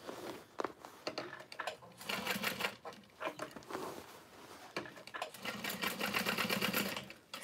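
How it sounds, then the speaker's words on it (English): A sewing machine box-stitches a seam on a tote bag in close, loud bursts of rapid needle chatter, stopping and restarting several times with short pauses between runs. "So what I like to do is just a box stitch"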